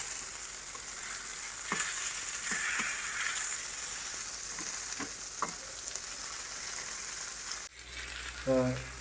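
Mackerel, a North Kannada-style bangude fry, sizzles in a pan with a steady, close frying hiss broken by a few light clicks, and a short musical sting comes at the end.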